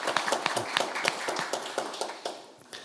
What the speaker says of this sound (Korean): 다시 한번 좀 감사의 박수 부탁드리겠습니다